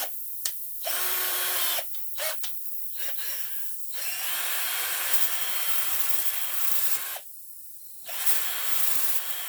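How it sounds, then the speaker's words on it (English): A power drill bores out a puncture hole in a tyre, whirring in several bursts with short pauses, one longer steady run, then a brief stop before it starts again. "I drill this out."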